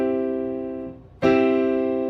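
A major interval played as a musical example, a sustained pitched tone that fades, then a second clearly struck note ringing out strongly, with no voices.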